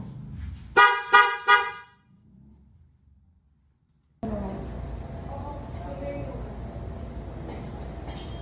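A stock car horn gives three short, loud honks in quick succession, then falls quiet before a steady background rumble of traffic and engine noise takes over.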